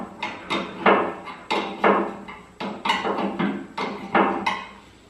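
Repeated metal hammer blows strike hydraulic lift parts on a Direct Lift Pro 10 ton lift, about a dozen sharp, fairly close impacts in an uneven rhythm, each ringing briefly before the next.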